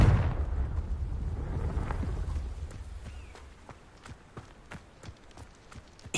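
A Confringo blasting spell from Hogwarts Legacy bursts loudly at the start and its rumble fades, followed by a string of sharp, quieter impacts and clatters spaced irregularly toward the end.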